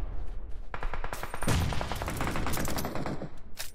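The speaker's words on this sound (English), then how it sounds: "Guns blazing from all around" Video game gunfire in a competitive league match, rapid automatic bursts and overlapping shots packed densely together, loud and sustained throughout.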